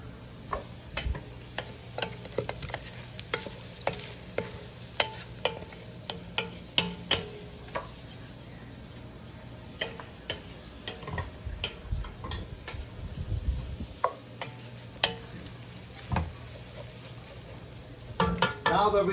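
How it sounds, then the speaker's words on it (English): Rice, four cups of it, stirred in olive oil in a pot for jollof, giving a steady run of sharp scraping ticks and light clicks over a faint sizzle, close and moderately quiet. "You're gonna stir that up real good so the olive oil can coat it."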